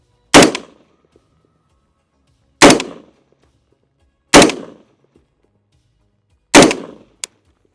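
Four sharp, loud single rifle shots from an M16A2 fired at a running target ring out at roughly two-second intervals on an outdoor range, each followed by a brief decay, with a small metallic click at the end.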